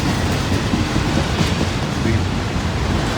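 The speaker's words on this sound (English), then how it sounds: "hopefully this train rolls on through because I have had them stop here many times" A long train rolls steadily through a road crossing in Glendale, giving a loud continuous rumble and wash of noise with faint clickety-clack, close by and unbroken throughout.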